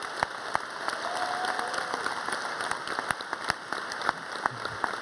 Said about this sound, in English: Would you just give him a huge cheer of and a wave